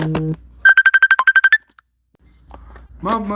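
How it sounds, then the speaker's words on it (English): A phone ringtone for an incoming call plays as a quick run of about ten evenly spaced, bright electronic beeps, loud and close, with a voice just before and after. "somebody direct calling me from their phone"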